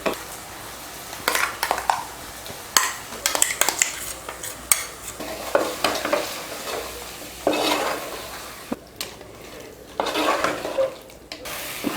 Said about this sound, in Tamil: மிளகாத்தூளை போட்டு நல்லா எண்ணெயில் கலந்து விட்டுருலாம்.